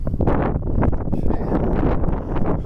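Strong wind in the Abiquiu, New Mexico badlands buffets the microphone in loud, continuous rumbling gusts, close and roaring with no clear voices.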